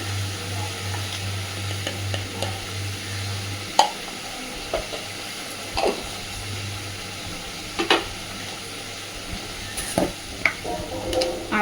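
Pangas fish frying in oil sizzles steadily as turmeric powder is stirred in, with soft scraping and occasional clinks of a utensil against the pan close by.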